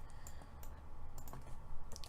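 Typing on a computer keyboard gives scattered, quiet key clicks at an irregular pace over a steady low background hum, with no voices.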